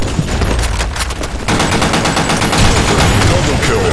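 Dense, continuous video game gunfire on a map called Sand Storm II: rapid automatic bursts and overlapping shots fill the whole stretch loudly, with faint player voices mixed underneath.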